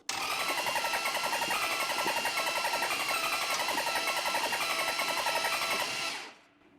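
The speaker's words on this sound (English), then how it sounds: "Good news is the starter works and our engine turns over with a starter." Starter cranking a 1968 Dodge R/T engine with the spark plugs removed, a fast, even, dry whirring chatter that runs loud and steady for about six seconds, then stops abruptly.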